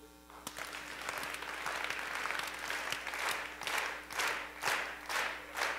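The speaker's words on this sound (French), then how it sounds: "d'applaudir de façon synchronisée" A conference audience claps together, the scattered applause quickly locking into loud, synchronized rhythmic beats that grow sharper and more regular toward the end.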